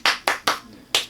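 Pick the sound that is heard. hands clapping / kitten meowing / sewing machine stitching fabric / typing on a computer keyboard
hands clapping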